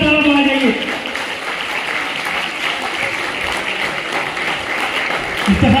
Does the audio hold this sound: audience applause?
yes